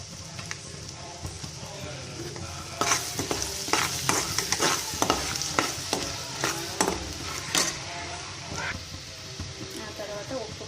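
Garlic paste sizzles in an oily pan for a spicy mutton chutney, with a soft steady fry broken by repeated scraping stirs of a spoon; close, moderately quiet, and a voice speaks over it at times.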